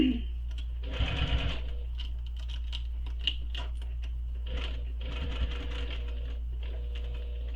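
A sewing machine stitches a backpack, running in short bursts with brief pauses between them. The rapid mechanical chatter sounds close and clear against a low, steady hum.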